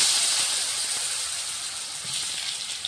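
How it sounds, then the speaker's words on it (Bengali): Potatoes frying in oil left over from frying rohu fish, giving a steady, close hiss of bubbling oil that holds evenly with no talk. "মাছ ভাজা তেলে আমি আলুটা ভেজে নেব।"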